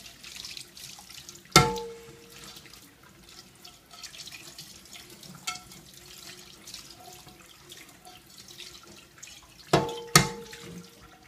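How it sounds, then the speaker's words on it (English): A kitchen tap runs steadily while a plate is rinsed under it, a soft continuous stream with a few sharp clinks and knocks of the dish against the sink. "rinse thoroughly so that there aren't any bubbles or suds left."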